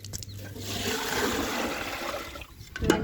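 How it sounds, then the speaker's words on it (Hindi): Water rushes into a container in a steady, close pour for about two seconds, tapering off at the end with a small clunk and trickle, no talking. "मैंने इसमें पानी डाल दिया है"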